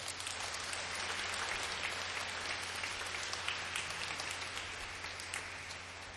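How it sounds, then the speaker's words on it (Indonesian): A congregation at a Christmas Eve Mass in a Catholic parish church applauds the choir, a faint, distant wash of steady clapping over a low hum in the room. "Saya kira tidak salah kalau kita memberikan tepuk tangan untuk"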